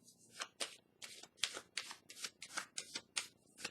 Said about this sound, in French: Je vais piger une carte ici pour le signe du Bélier